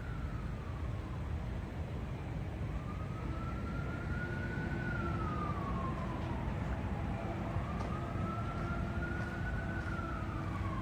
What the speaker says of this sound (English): You can hear a siren on the street